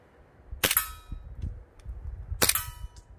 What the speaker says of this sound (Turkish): 1000 liralık oyuncak atış performansı.